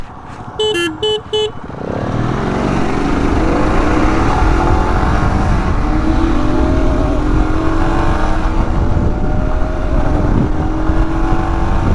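Bajaj Pulsar NS200 and Royal Enfield Himalayan 411 motorcycles launching side by side in a drag race: a few short horn toots, then loud, sustained engine roar climbing through the gears, close and steady for the rest.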